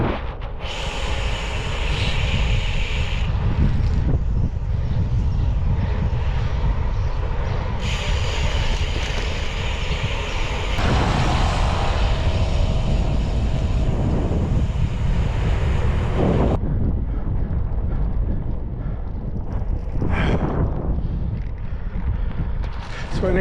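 Strong gusting wind buffets the microphone during a gravel bike ride in the mountains near Oujda, Morocco, a loud continuous roar with shifting bursts and no talking.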